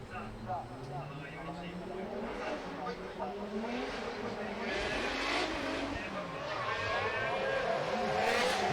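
A Nissan S15 drift car with a 2JZ engine works through a drift in Formula Drift Japan qualifying at Sportsland Sugo, with a rising and falling engine whine and tire noise at a distance. A commentator talks over it throughout.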